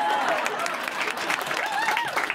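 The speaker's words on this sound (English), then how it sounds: "Okay, that usually gets a round of applause" A comedy audience at the Edinburgh Fringe Festival applauds steadily for a couple of seconds, a dense, continuous wash of clapping filling the small room.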